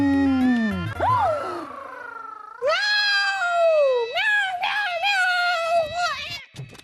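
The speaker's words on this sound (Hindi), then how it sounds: "महल में बिल्ली आ गई है, बिल्ली।" A cat yowls and caterwauls inside a palace, loud and close: a long, falling wail followed by several rising, drawn-out meows with a strained, pleading tone, heard alone and with no speech.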